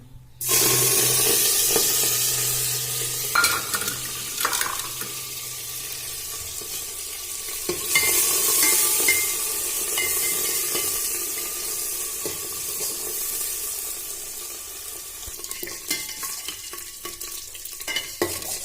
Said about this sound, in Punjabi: ਤੇਲ ਹੋ ਗਿਆ ਪਹਿਲਾਂ ਭੁੰਨਾਂਗੇ ਆਪਾਂ ਮੇਥੀ